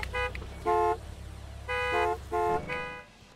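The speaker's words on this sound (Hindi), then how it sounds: "पीछे हॉर्न पे हॉर्न है लोगों के" Car horns honk impatiently in the video game Gas Station Simulator: several loud, close, blaring toots in uneven bursts over a low engine rumble, with no talk.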